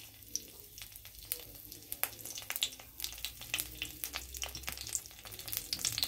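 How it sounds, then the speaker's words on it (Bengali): A washed bay leaf crackles in hot oil in a pan, a busy pattern of sharp pops and spits over a soft sizzle, fairly quiet and close. No one speaks. "তেলটা গরম হলে দিয়ে দেবো একটা তেজপাতা"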